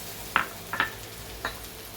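Onions and tomatoes fry in a pan as a spoon stirs them, with three brief scraping strokes over a faint steady sizzle, close and quiet, with no talking.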